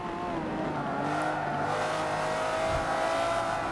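A Lamborghini Reventon's engine drones through a race in Forza 7, a loud, sustained tone with steady pitch and a hint of tire noise, no speech over it.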